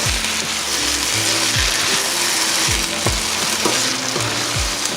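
Cream of celery stirred into fresh onions and celery sautéed in butter, with a steady loud sizzle and repeated scraping strokes of a utensil against the pan at a regular rhythm.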